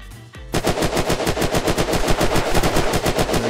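Rapid automatic gunfire from the video game Unturned, a loud, sustained burst of closely spaced shots after a brief quiet start, with no talking.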